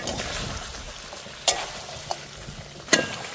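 Duck meat curry stir-fried in a pan, village-style cooking, with a soft ongoing sizzle and a few sharp spoon scrapes and clinks against the pan.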